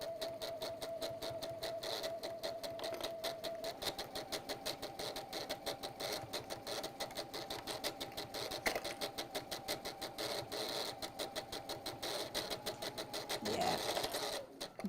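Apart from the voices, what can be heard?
sewing machine stitching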